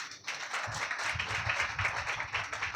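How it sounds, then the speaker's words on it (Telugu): A church congregation claps together in a steady, dense burst of applause, filling the space evenly and moderately loud throughout. "గట్టిగా చప్పట్లు కొడదాం."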